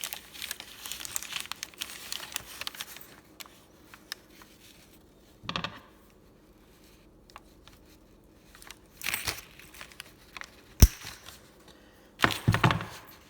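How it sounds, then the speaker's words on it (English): Excess metal flapper chain inside a toilet tank gets cut, with bursts of rustling and handling noise, a sharp metallic snap partway through, and more clattering near the end. "all this excess chain over here that needs to be cut"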